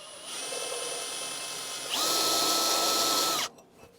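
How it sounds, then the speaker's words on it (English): Drill boring down into a thick piece of metal while fabricating parts for a small wheel loader, a loud continuous close whine that rises in intensity midway and then cuts off abruptly. "Now we just drill down into this thick piece of metal."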